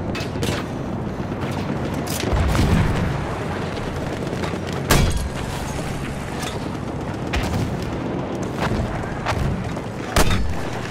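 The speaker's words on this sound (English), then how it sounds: "Here's a grenade for him." A grenade explosion and other gunfire in the Battlefield 1 shooter game, with several sharp booms standing out against a constant rumble of battle noise.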